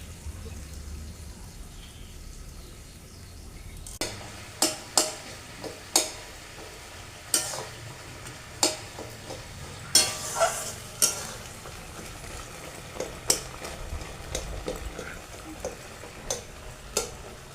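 Tomatoes cook in a pan with a little water, a soft steady simmer punctuated by a series of sharp spoon scrapes and clinks against the pan at irregular intervals, with no speech.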